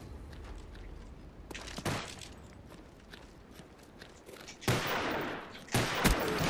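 Gunshots in Call of Duty Black Ops, a few sharp loud bursts of automatic fire breaking through quieter footsteps and movement noise, the heaviest volley near the end.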